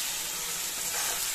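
Pointed gourd (potol) frying in a pan with sugar and salt, a steady close sizzle with bright crackling hiss throughout a short stretch, no voices.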